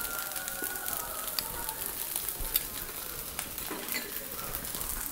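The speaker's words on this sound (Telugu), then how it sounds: "ఇప్పుడు సిమ్లో పెట్టి నూనె వేసుకోవాలి" Oil poured around a rava dosa on a pan over a low flame, giving a steady soft sizzle and crackle with small pops, no talking.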